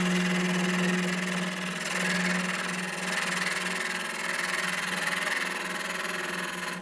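A wood lathe spins a natural-edge end-grain vase while a large gouge, bevel rubbing, shears across the end grain, giving a steady, close, continuous rushing hiss over a low motor hum throughout.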